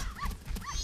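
A dog bark from the dog race in the video game Majora's Mask, two short yelping calls close together in under a second, with game background sound and no talking.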